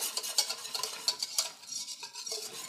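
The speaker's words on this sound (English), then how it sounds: "Mix well to incorporate the egg yolk, and you can even whisk a little bit if you want to make sure there are no lumps." A whisk scrapes and clinks in a saucepan, stirring an egg yolk gelato base in a series of quick, uneven strokes. The sound is close and moderately loud, and no one speaks.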